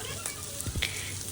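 Ginger garlic paste sizzling in a pan with frying chicken liver, a steady close crackling hiss that runs the whole time with a few brief stirring knocks.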